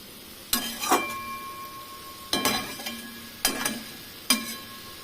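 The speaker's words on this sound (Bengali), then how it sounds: "ভালো করে কষিয়ে একটু আঁচটা বাড়িয়ে দিলাম ভালো করে কষালে তেল ছাড়লে ভাজা হবে" Rohu fish curry with pointed gourd is stirred in a pan over raised heat, a few sharp metallic scrapes and clinks of a spatula spaced about a second apart over a faint sizzle, close and without talk.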